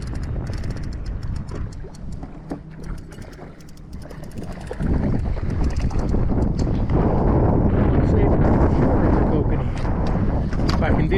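Wind buffets the microphone on a fishing boat out on the water at Flaming Gorge in December. The rumble is muffled at first, then grows louder and stronger halfway through, with a person's voice faintly underneath.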